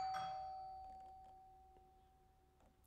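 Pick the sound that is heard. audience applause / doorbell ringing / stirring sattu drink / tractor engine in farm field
doorbell ringing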